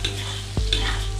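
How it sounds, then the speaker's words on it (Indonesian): Spice paste for Betawi-style beef semur stirred and fried in a wok, with a steady close sizzle and a brief scrape of the stirring utensil partway through. "Kita masak sampai bumbunya baunya harum, nggak langu."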